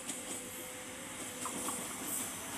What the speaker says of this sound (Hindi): 152 डाउन शालदीप एक्सप्रेस